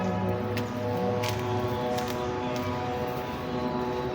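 Loud drones hum far away in a continuous, even buzz with steady harmonic tones, heard alone with no voices.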